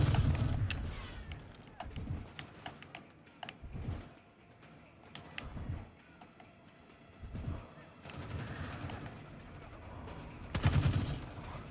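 Gunfire in Call of Duty Black Ops 6 during a firefight: scattered shots and short bursts at varying distance, some sharp and near and others fainter, with mechanical clicks between them and no talking.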